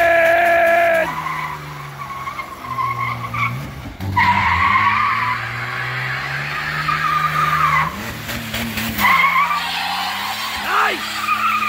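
A Jeep Cherokee 4.0 does neutral drops, its engine revving hard while the tires spin and squeal loudly and close by, in several long skids that rise and fall with the throttle.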